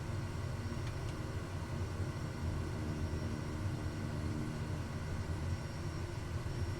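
Daher Kodiak 100 with tundra tyres in Microsoft Flight Simulator, a steady broadband engine drone and rumble held at an even level throughout, without voices.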